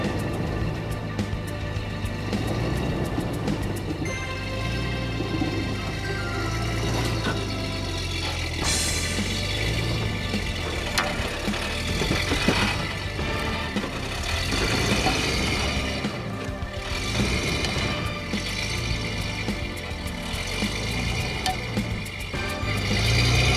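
A vehicle in first gear hauls itself up a hill with a bush winch, its mid-pitched engine droning steadily and loudly at close range throughout, with the winch strain blending into the continuous engine noise.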